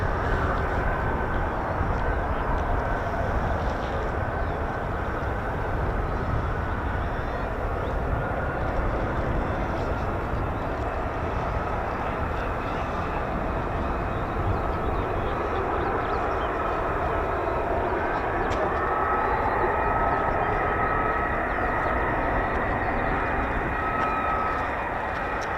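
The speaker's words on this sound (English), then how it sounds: "35's taxiing now." F-35 fighter jets taxiing at RAF Lakenheath airbase, a continuous broad engine roar with a steady high whine, heard from a distance and holding even throughout.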